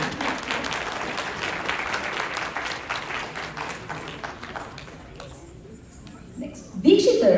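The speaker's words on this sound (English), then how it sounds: "So it deserves 4 times the applause now." An audience claps for a group of dance performers, moderate steady applause that gradually thins and fades, with a brief louder sound near the end.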